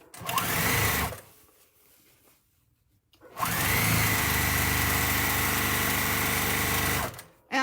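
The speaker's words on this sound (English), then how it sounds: "I'm going to sew that whole strip" A sewing machine stitches a long strip of quilting fabric for a Bargello quilt, running in a short opening burst, pausing briefly, then humming steadily and loudly for about four seconds before stopping.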